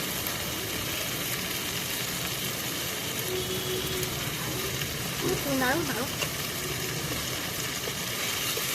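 Spices sizzle steadily in a pan of goat liver and fat curry cooked outdoors on a winter rooftop, a continuous close frying hiss with brief clatter of stirring midway.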